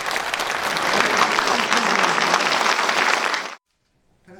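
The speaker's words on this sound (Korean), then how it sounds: "두 사람이 다시 악수를 나눌 땐 박수 소리가 커졌습니다." Lawmakers in the National Assembly chamber applaud during a handshake, a loud sustained clatter of many hands that cuts off abruptly, leaving near silence at the end.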